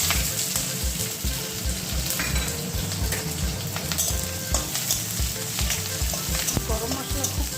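Chicken masala bubbling and sizzling hard in a hot pan, a steady, dense crackle with small pops throughout and no talking.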